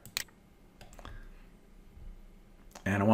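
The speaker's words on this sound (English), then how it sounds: "So I click on there." Computer mouse clicks: a few sharp, close, isolated clicks spaced apart over quiet room noise, followed by a person starting to speak at the end.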